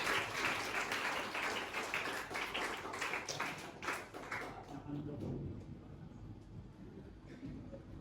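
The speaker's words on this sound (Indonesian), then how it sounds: "tepuk tangan semua kita." A classroom group at a website-design training session applauds in a brisk round of clapping that fades after about four seconds, leaving quieter murmuring and voices.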